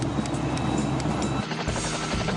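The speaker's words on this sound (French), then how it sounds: "Je suis dans l'hélicoptère." A helicopter hums with a steady, dense rotor and engine drone, close and even throughout the short stretch.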